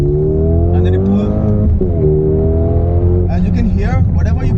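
Simulated car engine in a racing game, revving and pulling hard through gear changes with steady harmonic tones rising in pitch, loud and continuous while someone talks over it.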